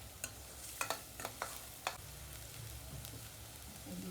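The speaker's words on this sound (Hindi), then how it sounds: "थोड़ा भून लेंगे, पूरा तेल बाहर आने देंगे पहले मसाले में से" Masala spices frying in oil for a soya chunks curry, stirred with a few sharp scraping clacks early on, then a soft steady sizzle continuing alone.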